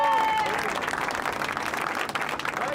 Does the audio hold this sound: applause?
yes